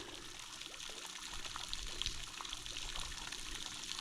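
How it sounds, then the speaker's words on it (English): A small solar-powered fountain pulling water from a pond and spraying it through the air, a faint steady trickle and splash close by, continuous and alone. "I can run this little fountain here"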